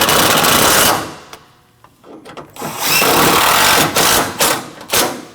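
A power tool drives the coolant reservoir bolts on a 2012-2021 Nissan NV2500, close and loud. Long whirring bursts are broken by a brief lull, then short spurts as the bolts snug down.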